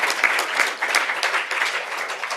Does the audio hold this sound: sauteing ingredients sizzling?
no